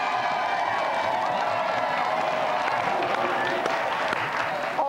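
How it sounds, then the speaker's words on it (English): A TV studio audience bursts into sustained applause with some cheering mixed in, loud and continuous throughout. "So please give a round of applause for our two special guests tonight, Michael Duberry, Richard Rufus."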